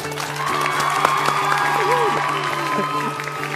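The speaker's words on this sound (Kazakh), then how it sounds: "шапалақ қошемет" An audience applauding in a Karakalpak comedy show studio, broad steady clapping with some cheering, while a voice and background music run over it.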